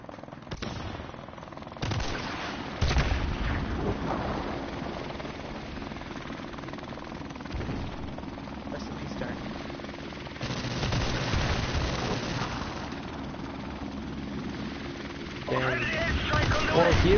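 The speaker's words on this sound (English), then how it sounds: "Friendly helicopter on the way." A helicopter's steady rotor drone runs through a console shooter match, mixed with bursts of game gunfire and explosions while players talk over it.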